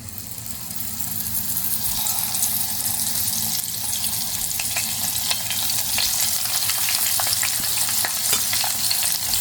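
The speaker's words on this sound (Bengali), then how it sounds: "এটাকে ভাজি করবো হালকা আছে করবো খুব বেশি আঁচ দিলে পুড়ে যাবে" Pointed gourd frying in hot oil over low heat gives a constant close sizzle, with occasional crackles and stirring scrapes, no voices.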